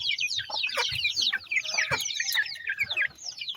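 Native Bisaya hens cluck softly near the ground while newly hatched chicks peep in rapid, high, overlapping chirps, a busy, close barnyard chorus without speech.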